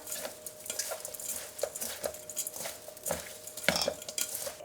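Seasoning of sesame salt, sesame oil and garlic is mixed by hand into chwinamul greens in a large bowl, giving soft, rhythmic stirring and squishing with light clinks against the bowl, quiet and close.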